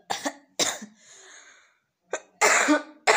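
Several sharp coughs in a row, close and loud, with a wheezy breath in between and a final burst of coughing after a pause.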